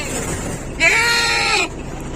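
A goat gives one close bleat lasting under a second amid livestock being loaded into a cargo vehicle, with low background rumble before and after.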